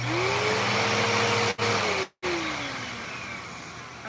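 An older Bissell vacuum cleaner with ungreased bearings runs loud and close, a steady whining motor drone with a pitch that dips and shifts, broken by two sharp dropouts near the middle before resuming.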